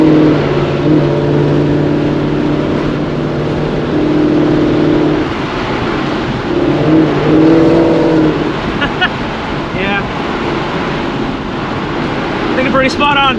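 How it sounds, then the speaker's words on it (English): A loud exhaust of a catless, E85-fuelled Gen 3 Mustang GT rumbles and revs nearby at night, its booming note echoing off a wall, with a few sharp pops toward the end. "the echo of my exhaust really bounces off this wall right here"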